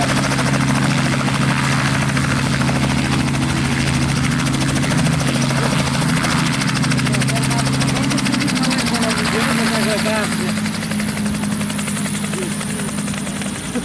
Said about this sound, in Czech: V případě tento vrtulník je v soukromém majetku